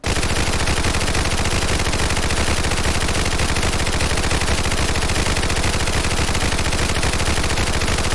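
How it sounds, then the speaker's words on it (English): In a modded Fallout 4 game, an American 180 submachine gun fires nonstop at an extremely fast rate, a loud, dense, continuous stream of shots with no pauses. "This is just the base default version, but it does shoot extremely fast."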